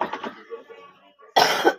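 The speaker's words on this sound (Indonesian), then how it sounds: "batuk Bunda." A single loud, harsh cough bursts out near the end, right after a stretch of quiet voice and breathing sounds.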